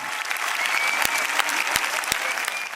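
Dense applause from a concert crowd of over four thousand spectators in Sicily, steady and full throughout, with a few sharp louder claps standing out.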